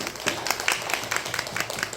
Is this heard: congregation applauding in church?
yes